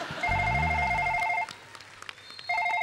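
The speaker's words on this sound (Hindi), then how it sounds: "बाहर फोन आ रहा है सिक्योरिटी वालों का।" A telephone ringing in a comedy stage sketch, an electronic warble in two bursts separated by a short pause, fairly loud and close, with a low voice murmuring briefly under the first ring.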